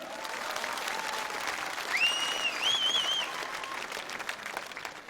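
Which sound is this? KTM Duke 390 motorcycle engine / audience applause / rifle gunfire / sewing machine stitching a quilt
audience applause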